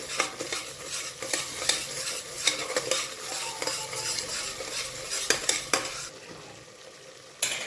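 A spoon stirs turmeric and Maggi masala in a cooking pan for a dhaba-style matar masala, with steady scraping and clinking strokes and a soft sizzle underneath, close and continuous before briefly easing off.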